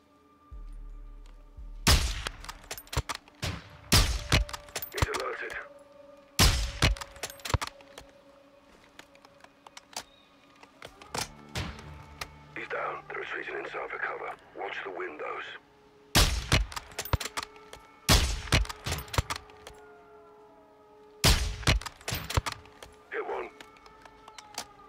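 Bursts of gunfire crack out in the Modern Warfare 2 video game, loud and sharp, in clustered volleys separated by short lulls, with mechanical clatter and faint game effects in between.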